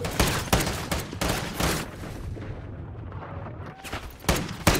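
Video-game gunfire rattles on continuously in rapid, dense bursts, loud and close, with heavier blasts at the start and end.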